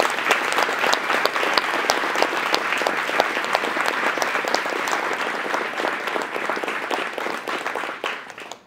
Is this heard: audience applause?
yes